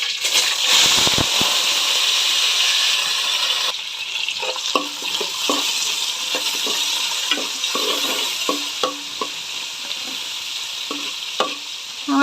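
Ginger, garlic and shallots sizzle loudly in hot frying oil for a Kerala-style tuna curry, with a steady hiss broken by scraping stirs and clinks of a spoon against the pan, no voices.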